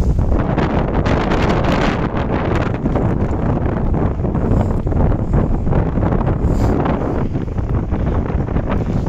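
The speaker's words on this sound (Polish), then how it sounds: "Wiatr wieje, ale trudno." Strong gusting wind buffets the microphone continuously at Żółtańce beach near Chełm, Poland, a loud roaring rumble with fluctuating bursts throughout and no speech.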